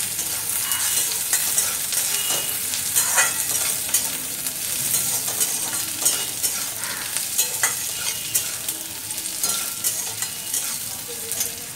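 Coconut pieces fry with potatoes and onions in a pan, a steady bright sizzle with scattered crackles and stirring scrapes running close and continuous throughout, no voices over it.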